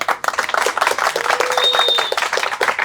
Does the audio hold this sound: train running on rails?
no